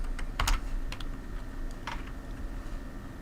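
Computer keyboard keys are tapped while a formula is entered in Excel, a few quick, close clicks in short bursts over a faint background hum.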